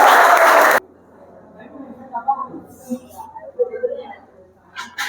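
A classroom bursts into loud, dense clapping for a student for under a second, then it stops abruptly and a voice starts speaking over a quiet room.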